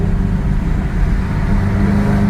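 A BMW E92 M3 driving on a road after a repair, its engine giving a steady, loud, low drone with road and tire rumble inside the cabin, holding a fairly constant pitch throughout.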